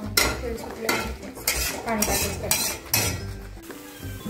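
Spicy fish curry masala being stirred and sautéed in a pan, a spoon clinking and scraping against the metal in repeated strokes over a soft background sizzle, close and fairly loud.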